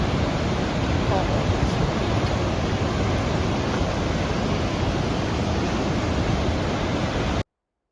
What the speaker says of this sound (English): Gullyfoss is a 2-tiered waterfall that is fed from the glacier in Iceland. It's very powerful